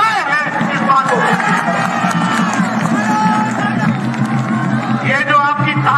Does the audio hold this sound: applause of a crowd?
yes